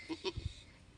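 A goat that has just given birth to two kids bleats in short, faint, nasal bursts, a few quick cries within about a second.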